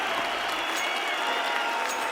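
Steady applause and cheering from a crowd at a Counter-Strike match on Mirage at BLAST Pro Series Istanbul 2018, a dense even wash of clapping throughout the short moment.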